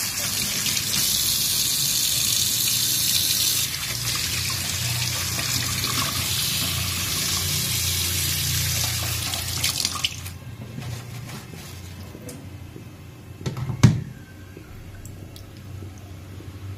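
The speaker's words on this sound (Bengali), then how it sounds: "দেখো চলো এখন মাছটা ধুয়ে নিই" Fish rinsed under a running kitchen tap, a steady close splashing gush of water for about ten seconds before it cuts off, followed by quieter drips, handling sounds and a single sharp clunk.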